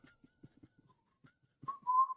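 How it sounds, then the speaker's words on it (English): A whistled or pan-flute-like melody in background music, opening with soft plucked notes and ending in a sustained bright tone that swells louder in the final half second. "the pan flute starts out or the whistling starts, it's about to, the beat's about to drop"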